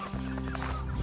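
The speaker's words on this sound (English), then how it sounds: "Fed these birds this morning. Seem to be doing all right." Cornish Cross broiler chickens in an outdoor chicken tractor cluck and murmur softly and continuously, close by, with a low rumble of wind or weather beneath them and no talking.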